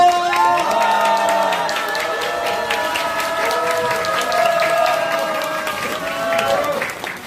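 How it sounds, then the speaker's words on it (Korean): Political rally crowd at the launch of an emergency committee against prosecutorial oppression, raising a loud, sustained cheer with shouting voices and clapping, steady and close throughout. "힘찬 함성과 연대의 박수로 시작하도록 하겠습니다"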